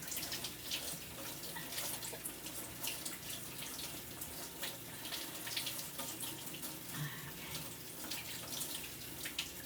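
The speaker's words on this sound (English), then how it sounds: "Let me rinse my hands off, you guys, and I'll be right back with you." Hands covered in breadstick dough rinsed under a running tap, a steady close rush of water into a sink with faint splashing, continuous throughout with no talking.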